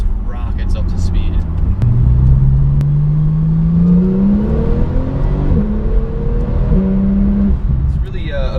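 A 2016 Porsche 911 Turbo S with all-wheel drive and 560 horsepower accelerates hard on a street, its engine note climbing steadily through the gears in a loud, continuous rising drone.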